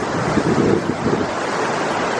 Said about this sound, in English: beautiful South Boulder Creek that's just gushing right now